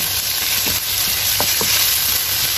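Tomatoes sautéing for pakbet, a Filipino vegetable stew, with a steady close sizzle and a few soft scrapes and knocks of stirring throughout.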